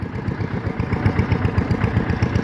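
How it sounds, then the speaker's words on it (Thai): A loud modified farm tractor engine runs steadily up close, its heavy low-pitched chugging pulsing in a fast, even rhythm without any voices over it. "มื้อนี้มากับรถไถซิ่งเนาะ รถไถซิ่งเสียงดังปักบัดใดนี่โอ้ย"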